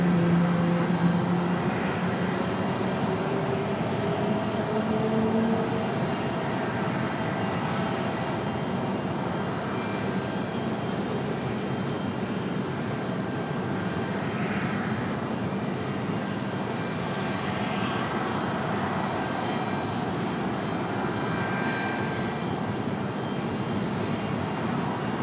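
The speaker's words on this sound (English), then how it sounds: "A350 of Air France." An Air France Airbus A350 jet at Raleigh Durham International Airport produces a continuous, broad engine roar that holds steady for the whole stretch, heard from a distance with no talking.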